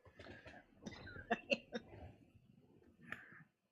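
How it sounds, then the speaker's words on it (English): A person with a cold coughs a few times, close to the microphone and fairly quiet, with short throat-clearing bursts and breathy sounds in between, followed by a moment of silence. "I didn't catch the first cough, but I caught the second one."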